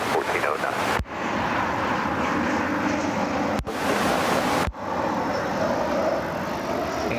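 An airliner takes off from runway 24 left at Cleveland Hopkins airport, its steady broad roar mixed with wind rush across the microphone and broken by a few brief dropouts.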